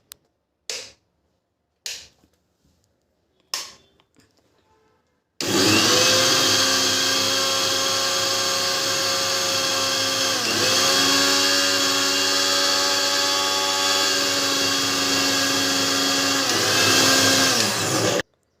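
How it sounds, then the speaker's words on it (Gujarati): A few sharp knocks, then a mixer grinder grinding green coriander chutney roars on loudly and runs steadily for about thirteen seconds, its pitch dipping briefly midway before it cuts off. "આ બધી વસ્તુ આપણે મિક્સરમાં ગ્રાઇન્ડ કરી દઈશું"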